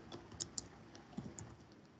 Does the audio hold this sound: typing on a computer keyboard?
yes